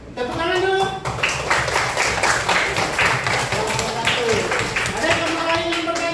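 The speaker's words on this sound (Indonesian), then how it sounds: "tepuk tangan dulu" Students in a classroom burst into steady clapping and applause that continues for several seconds, many hands together at close range, with voices calling out over it.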